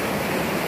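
The Batangan river flows in a steady, dense rush of water, a continuous close hiss and gurgle with no voices over it.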